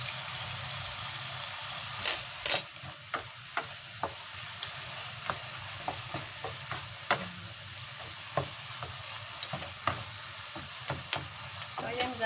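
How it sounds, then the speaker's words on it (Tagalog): Minced pork with oyster sauce cooks in a pan with a steady close sizzle. Frequent sharp pops and crackles and some stirring clatter can be heard over it, with no talking. "hintayin na lang natin na maluto yung minced pork"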